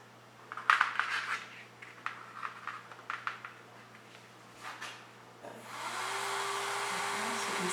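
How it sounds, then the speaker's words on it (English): A tiny electric motor driving a fan in a simple homemade circuit starts up near the end, giving a steady whirring hum after earlier handling clicks and rustles. "So this one is a little tiny motor."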